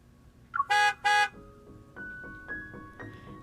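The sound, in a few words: car horn honking outside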